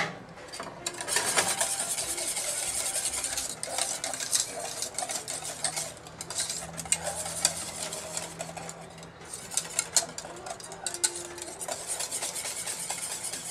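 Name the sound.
stirring chocolate pudding in a pot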